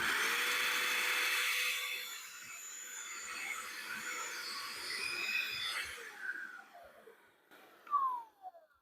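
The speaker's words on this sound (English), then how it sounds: "So now let's vacuum up this little mess that I just created." A handheld vacuum cleaner motor whines steadily at high pitch, then winds down and stops, followed by a few light knocks and a brief scraping sound.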